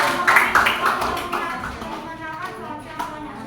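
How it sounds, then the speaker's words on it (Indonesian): Classroom applause for a student group, a burst of clapping from many hands that starts loud and fades to a thinner patter over a few seconds. "boleh tepuk tangan untuk kelompok Razka"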